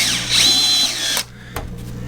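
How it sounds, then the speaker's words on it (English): A regular cordless drill spins up with a rising whine and grinds briefly while driving out rivets on an RV microwave bracket, then cuts off, followed by a short second blip, close and loud. "So I'm going to put it into a regular drill, not an impact drill driver."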